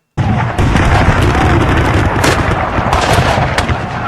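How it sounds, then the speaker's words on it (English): A loud, sustained roar of massed musket gunfire, with overlapping cracks and booms rolling on for several seconds like a rifle volley, depicting the American Civil War battle of Second Bull Run. "A sheet of lead is fired."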